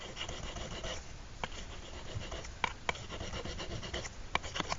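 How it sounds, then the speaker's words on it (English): A knife blade rubs back and forth on a 3000-grit polishing stone, close and quiet, soft gritty scraping strokes with occasional sharper scuffs. "this stone works great for going in here and really giving these guys a good polish"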